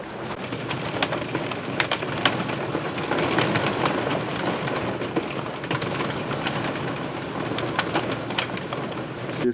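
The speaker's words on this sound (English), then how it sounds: "and then came this rainstorm" A rainstorm with rain, hail and wind lashes down outdoors, a steady loud wash of drumming with scattered sharp impacts throughout and no voices.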